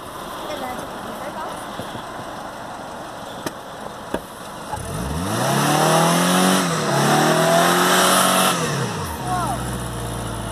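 A manual Subaru rally car driven at night revs its engine loudly, the pitch swooping up and down in a couple of surges and then dropping off, with occasional clicks and background voices around it.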